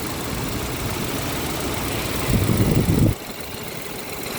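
A BMW car engine idles quietly with a steady low hum. A brief louder rumble swells for about a second near the end before the idle settles again. No speech is heard.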